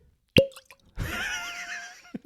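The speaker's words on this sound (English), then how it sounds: "I felt that cork pop" A cork pops sharply from a bottle of 36-month cask-strength whiskey, one close, loud plop followed by a brief airy ring and a softer fizz as the bottle settles.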